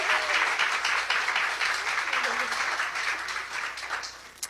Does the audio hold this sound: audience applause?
yes